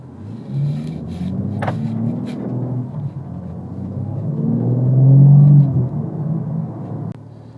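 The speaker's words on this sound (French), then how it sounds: "Nous sommes au volant de la M3 G80 compétition." BMW M3 G80 Competition engine rumbling from inside the cabin, a deep steady low drone that swells louder midway, with a few light clicks and bumps.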